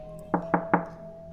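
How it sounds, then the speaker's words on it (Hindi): Three hollow knocks land on a window in quick, even succession, each short and sharp against a quiet indoor background with a faint steady hum. "मेरे पीछे की खिड़की पर 3 खोखली दस्तकें हुई।"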